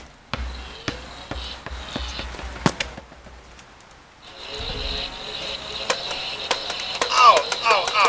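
A Nerf gun fires a rapid string of sharp, close clicks and thumps, the darts smacking their target in quick succession with some handling noise and brief voices around them.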